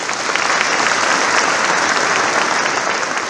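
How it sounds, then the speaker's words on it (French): An audience at a municipal New Year ceremony claps continuously, a dense, even burst of applause from a crowd in a hall, heard alone without speech. "Je pense qu'on peut les applaudir."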